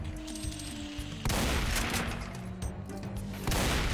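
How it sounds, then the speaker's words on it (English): A siphon grenade bursting in a modded Doom 2 level: a loud, sharp blast lands mid-clip over steady game noise, with a second burst near the end. "good siphon grenade"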